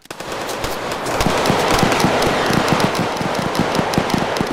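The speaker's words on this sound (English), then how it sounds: "There's so many gunshots, bro." Rapid gunfire in a gang-war video game, a loud, dense barrage of automatic shots building after a brief opening and continuing nonstop, close and harsh.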